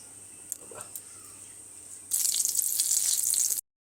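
Two bay leaves and two dried red chillies hit hot oil in a kadai, erupting into a loud, bright sizzle after a quiet stretch with a few small clicks, then stopping abruptly.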